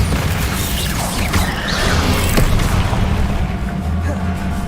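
Bombarda blasting spell going off in Hogwarts Legacy during hard mode combat, a loud, dense rumble of explosive booms and crashing impacts that runs without pause through the whole stretch.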